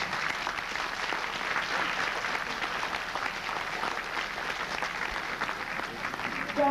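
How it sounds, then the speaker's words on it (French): A crowd in a circus tent claps steadily for several seconds, dense and sustained applause at moderate distance. "Je crois qu'on peut les applaudir parce qu'ils ont ouvert le chapiteau pour Cristal"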